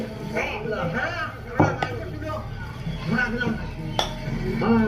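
Meat is cut on a board in a home kitchen: a few irregular knife chops and metallic clinks of utensils, heard close and fairly faint beneath a person speaking.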